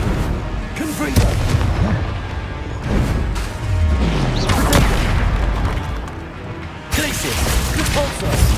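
Explosive Confringo spell blasts in Hogwarts Legacy on PS5, repeated booming impacts mixed with other spell effects and dense game combat noise, loud and close throughout.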